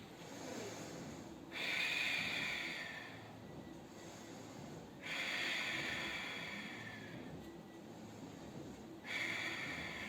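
Three long, audible breaths are drawn in and pushed out during a Pilates exercise, slow and close, separated by quiet pauses.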